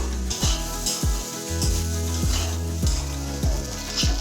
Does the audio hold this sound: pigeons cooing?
no